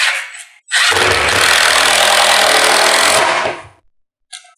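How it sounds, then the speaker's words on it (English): A power drill pre-drills screw holes in wood while mounting a CNC table, one continuous loud whining burst of about three seconds that winds down and stops, with no talking. "I would also recommend pre-drilling if you use screws so that you don't crack your material."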